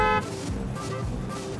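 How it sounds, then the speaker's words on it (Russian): A car horn sounds in the Parking Tycoon Business Simulator game, a short loud blare at the start followed by a steady low hum of game ambience. "Кто там гудит?"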